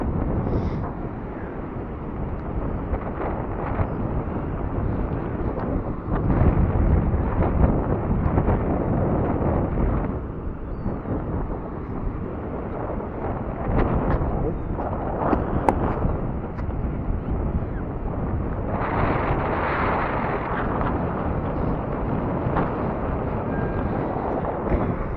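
Strong storm wind buffeting the microphone on the Blackpool seafront, a continuous loud roar with gusty surges and no speech.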